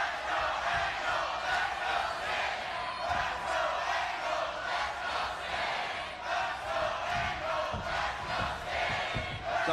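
A wrestling crowd in the Impact Zone roars and cheers continuously through a title main event, a dense, loud wash of massed voices with rhythmic surges of chanting.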